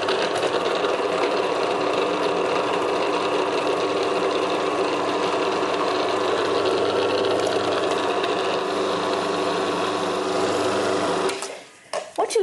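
Food processor blending butter into pastry flour for a lime mascarpone tart, a loud steady motor whir running continuously for about eleven seconds before cutting off abruptly, followed by brief clattering.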